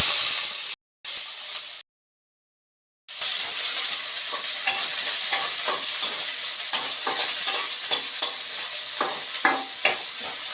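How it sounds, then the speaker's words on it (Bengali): After a few abrupt gaps, chopped onion sizzles steadily and loudly in a pan with garlic and ginger in mustard oil, punctuated by repeated scraping stirs, close up. "একটা বড় পেঁয়াজ নিয়েছি পেঁয়াজ কুচিও দিয়ে দিলাম"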